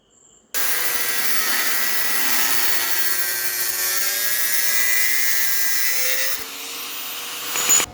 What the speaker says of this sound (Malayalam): നമ്മൾ പൈപ്പിൻ്റെ ചെറിയൊരു പീസ് മുറിച്ചെടുത്തിട്ടുണ്ട്